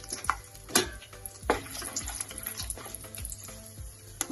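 Mustard seeds and cumin spluttering in hot oil for a tapioca biryani, sharp irregular pops and crackles over a faint sizzle, close and alone.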